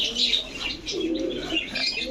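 Pigeons of racing and fancy breeds cooing close by in a loft, soft throaty coos over faint chirps and light wing rustle.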